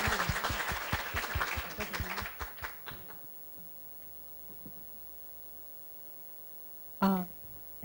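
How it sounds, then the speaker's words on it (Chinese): An audience at a working holiday experience-sharing seminar claps to welcome a speaker; brisk, fairly close applause fades out within about three seconds, leaving near silence and a brief sound near the end. "请给予她热烈的掌声"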